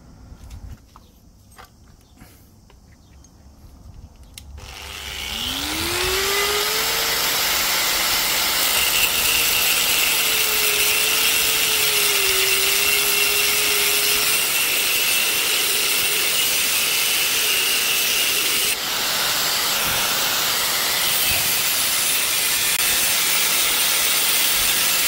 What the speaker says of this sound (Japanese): 斜めにカットしてから溶接したいと思います